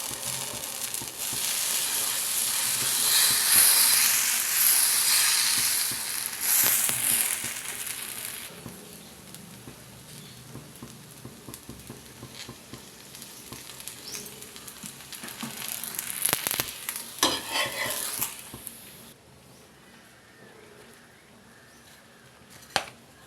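Wheat rava dosas cook on a hot pan, giving a loud, close sizzle at first that fades to a quieter crackle, with occasional scraping and clattering and a brief faint tap near the end.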